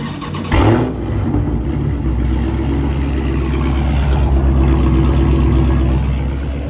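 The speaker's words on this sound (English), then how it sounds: "I'm gonna give y'all a start of the car so y'all can hear it" A tuned SRT 392 V8 engine cranks and catches, then settles into a loud, steady rumble with a brief rev near the start; no one speaks.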